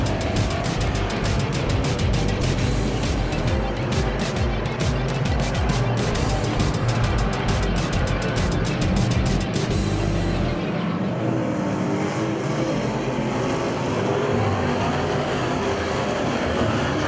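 Race cars roar past heading down into turns 3 and 4 at an oval track, a loud dense engine wash for about ten seconds that then drops to a distant, thinner drone.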